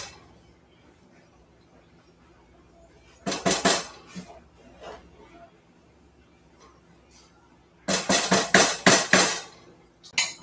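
Rice being stirred in a pot: two bursts of rapid scraping and clinking of a utensil against the pot, separated by a quieter stretch of low background noise.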